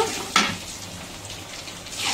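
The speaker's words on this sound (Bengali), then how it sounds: "ঠিক সেই কড়াইতেই আমি ডিম ভেজে নিব" Eggs fry in a wok with a soft, steady sizzle and crackle, opening with a brief louder spatter.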